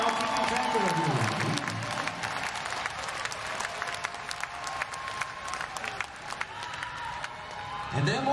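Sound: concert crowd applauding

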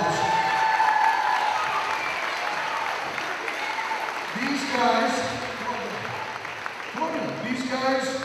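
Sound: audience applause

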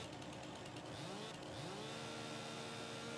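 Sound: chainsaw cutting wood in Farming Simulator 2019 video game

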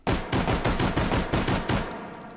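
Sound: Mauser C96 pistol 10-round rapid fire in H3VR video game

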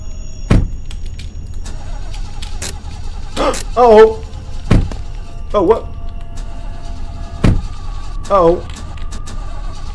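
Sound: car in a video game

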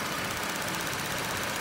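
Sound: 3.6L V6 car engine running

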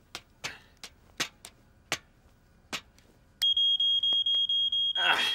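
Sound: smoke alarm being tested

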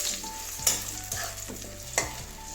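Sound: potatoes frying in a covered pan

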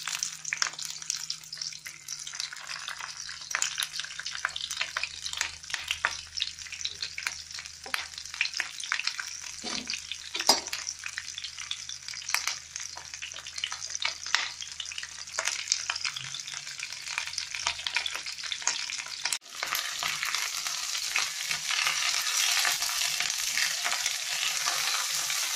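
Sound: chillies frying on high flame in a pan

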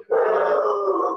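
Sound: dog

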